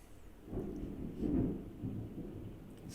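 Rumbling thunder from a massive storm, low and diffuse, swelling twice and rolling on steadily through the whole stretch without any voices.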